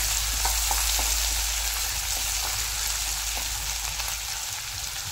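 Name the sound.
frying ginger-garlic paste in a pan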